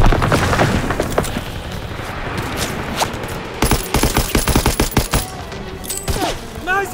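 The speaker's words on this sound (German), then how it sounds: "Werfe eine Granate!" Grenade blasts and gunfire in the World War II shooter Call of Duty WWII: a rumbling explosion opens, then rapid bursts of rifle and machine-gun fire crack close by, with a brief high whine partway through.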